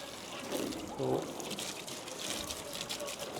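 Hose water sprays and splashes over a 2023 Lotus Emira during a rinse after a decon wash, a continuous close wash of liquid noise with brief gushes.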